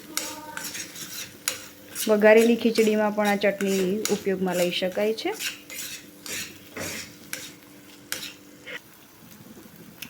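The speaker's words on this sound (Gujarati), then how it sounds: "ચટણીને આપણે પાંચથી સાત સાત મિનિટ સુધી એકદમ સરસ રીતે કૂક કરી લેવાની છે" Garlic chutney stirred and cooked in a metal pan, with a spoon scraping and clinking against the pan under a voice, plus a soft sizzle throughout.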